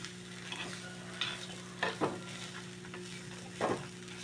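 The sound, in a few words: grated coconut frying in a pan for mango curry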